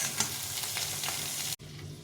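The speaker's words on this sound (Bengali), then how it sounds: "ডিমটাকে ভেজে নেব, এটাকে ভালো করে ভেজে নিলাম" An egg fries in a pan for egg rice, giving a steady, close sizzle with faint crackles that cuts off abruptly near the end, then resumes more quietly.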